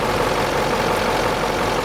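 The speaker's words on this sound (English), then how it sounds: "Now we're going to do the same thing on this with a running engine" A 2005 Duramax diesel engine runs steadily at idle during an injector flow test, a continuous broadband rumble and drone at constant loudness with no speech.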